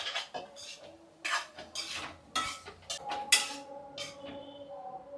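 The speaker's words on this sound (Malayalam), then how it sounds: "നന്നായിട്ട് ഇളക്കി മിക്സ് ചെയ്തെടുക്കാം." Spatula scraping and clinking against a pan while scrambled egg and cooked rice are stirred together, a run of close, irregular metallic scrapes and taps heard alone.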